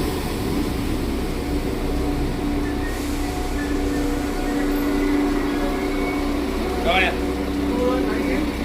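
A train arrives at a station in Stratford with a low, steady rumble and a faint whine of approaching carriages, heard throughout under nearby talking and platform murmur.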